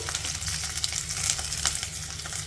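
Green chillies, garlic and curry leaves frying in a pan on medium flame for a peanut mint tomato chutney, a steady close sizzle with soft crackles and occasional stirring scrapes, no talking.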